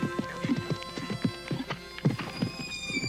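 A horse's hooves clop in a rapid steady rhythm, close and clear, while a neigh rises toward the end.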